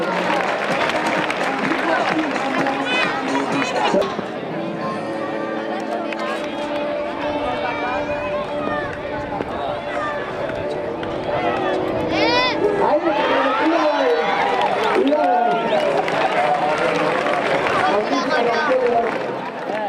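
A crowd at a young recortadores contest in a bullring claps and cheers, broad applause running beneath a loud announcer's voice over the PA.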